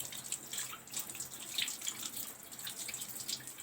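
Tap water runs steadily into a sink for hand washing before a clinical examination, a soft continuous splashing hiss with faint drips, fairly quiet and with no talking.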